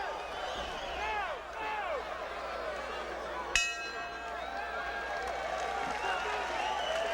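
Boxing arena crowd in Houston during the Warren Williams vs Tim Littles fight, a faint murmuring and cheering backdrop beneath a commentator's talk, with one sharp bell clang partway through.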